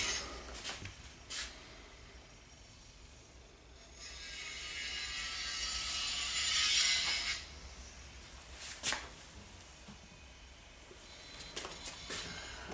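Two small screws driven into a Makita BJV180 jigsaw during restoration, giving close, intermittent ratcheting clicks and metallic ticks with a longer rasping stretch partway through, and no talking.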